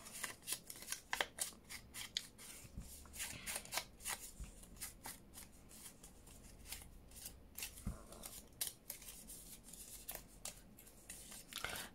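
Scissors snipping through paper leaves for a handmade junk journal, with quiet close crisp cuts and rustling handling of the pages throughout.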